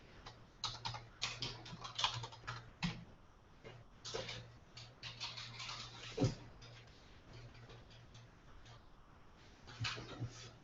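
An address is typed on a computer keyboard, producing irregular runs of light, close key taps across about ten seconds, some louder clacks among them, over a faint steady hum with no one talking.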